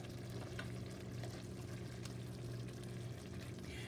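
Liquids pour steadily into a garlic butter sauce with garlic, onion and ginger, making a continuous close splashing trickle with no talking.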